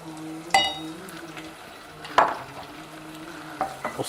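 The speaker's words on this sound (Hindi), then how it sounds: "चमचा चलाएं ताकि मसाले में मगज़ जो है वो मिक्स हो जाए" A spoon stirs brain masala (maghaz) in a pot, with soft scraping and a few sharp metallic clinks against the pot, over a low sizzle of frying spices.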